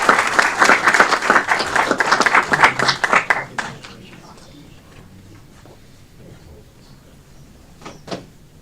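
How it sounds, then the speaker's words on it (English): Applause for the Sikh community at an Aurora committee of the whole meeting, a dense round of clapping that fades after about four seconds into quiet room noise with a few scattered thumps. "Round of applause to our Sikh community."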